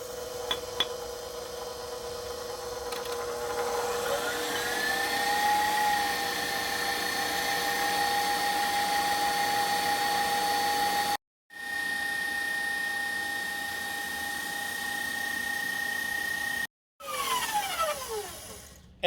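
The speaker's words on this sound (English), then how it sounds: "Next we're gonna beat the egg whites with the sugar" An electric mixer beats egg whites with sugar toward stiff peaks, a steady whirring whine that changes pitch as the speed shifts, with two brief cutoffs and some faint clinks.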